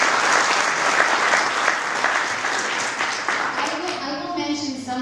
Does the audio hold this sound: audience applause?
yes